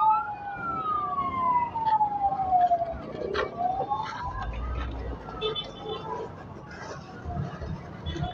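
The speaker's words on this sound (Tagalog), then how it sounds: "Ambulansya at saka bumbero." Ambulance and fire truck sirens wail with a falling and rising sweep at a fire in Antipolo City, then fade into a busy mix of street noise and people talking.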